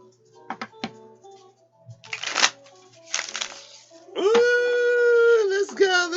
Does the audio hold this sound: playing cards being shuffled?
yes